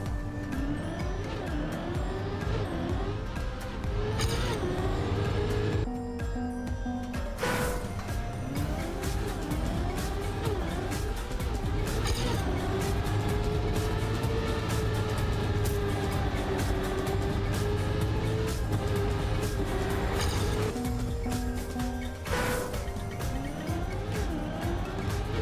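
Racing car engine in the Trackmania video game, revving continuously with rising and falling pitch as gears shift, a few brief cuts and tire noise woven through.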